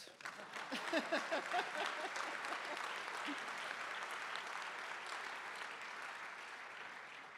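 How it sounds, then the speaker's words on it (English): Audience applause fills a room at a groundbreaking celebration for a cancer center, loud and sustained, with a few voices heard in the first seconds before the clapping settles into a steady dense roar. "We're all in the same room and we're all cheering together"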